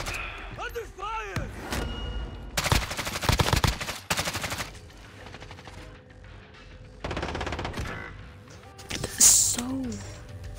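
Bursts of automatic gunfire in a Gears of War style online multiplayer shooter, loud rapid rattling volleys in several clusters, mixed with game effects and players talking over the action.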